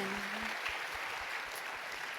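A church congregation applauds, a steady wash of clapping that sounds soft and somewhat distant, with no voices rising above it.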